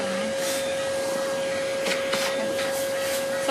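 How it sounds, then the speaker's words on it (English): Shop vacuum sucking shaved fur off a dog during surgical prep, a steady close whine with a constant tone and faint rubbing as the nozzle moves over the coat. "So now we're using a vacuum, a shop vac, to get all the excess hair off of her"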